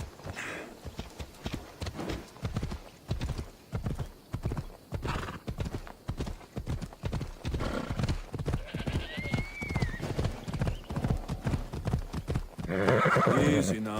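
Horse hooves pound in a steady galloping rhythm in Assassin's Creed Odyssey, with a neigh partway through and a louder burst near the end, under faint game ambience.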